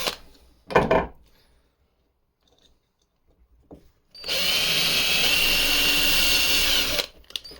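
A power drill with a 2mm bit bores holes for a homemade inline spinner bait, one steady high whine lasting about three seconds, close and loud, after some brief handling knocks.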